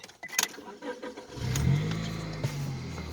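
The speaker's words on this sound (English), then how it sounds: "Restart the car." A Mustang's engine cranks and catches after a jump-start boost with the hood open, then settles into a steady, close idle rumble with a brief blip midway.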